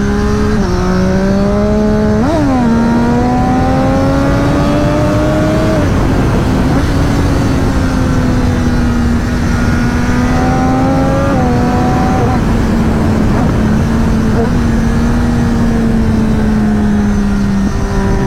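A Triumph Daytona 675 triple-cylinder sportbike fitted with an Arrow exhaust, loud and close, revving repeatedly with rising pitch sweeps, brief blips and a sustained high howl throughout.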